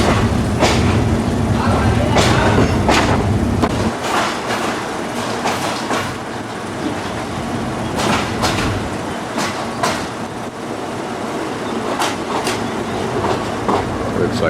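An old train bound for Ayutthaya, Thailand rolls along the rails with a steady rumble and rhythmic clickety-clack of the wheels, close and fairly loud, with a voice speaking over it.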